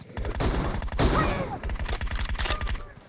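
Groza assault rifle fire in a battle royale shooter, a rapid automatic burst, a short gap, then more rattling shots.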